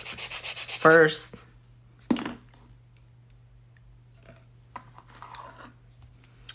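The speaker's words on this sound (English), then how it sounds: "I prefer hand filing because I feel like the shape comes out better." Acrylic nails are hand-filed with an abrasive file in a few quick rubbing bursts near the start, followed by one brief scrape and faint scratching over a steady low hum.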